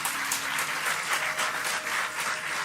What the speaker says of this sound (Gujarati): એટલે એકવાર જોરદાર તાળીઓ દાવો.